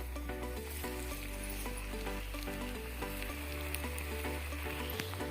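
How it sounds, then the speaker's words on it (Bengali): Pitha rice cakes fry in hot oil in a wok with a continuous, even sizzle that holds steady throughout, alongside a low sustained tonal hum. "কড়াইয়ে আমি তেল দিয়ে দিয়েছি। এখন তেলে আমি একদম ছেড়ে দিলাম পিঠেটা।"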